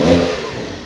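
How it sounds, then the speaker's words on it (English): Porsche 911 GTS Cabriolet (2022) with valved exhaust giving a short, loud, close rev that peaks early and then eases into a fading engine note, with no voices. "you can just play with the valved exhaust and make it quieter or louder if you want"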